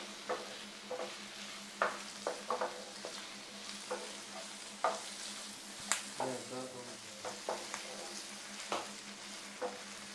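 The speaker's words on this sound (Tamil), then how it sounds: "நல்லா ஒரு நிமிஷம் நல்லா வதக்கி விட்டுடலாம்." Vegetables sizzle and fry in a pan for chilli chapathi, capsicum being sautéed with steady crackling and repeated sharp scrapes and clatters of a stirring spoon against the pan, close and continuous without speech.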